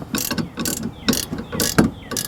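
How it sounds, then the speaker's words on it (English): A ratcheting wrench tightens the large bolt on a Thule cargo box mount, producing about five loud, close bursts of rapid clicking in a quick steady rhythm, with no voices. "I find the easiest way to tighten up the bolt is one of these ratcheting wrenches."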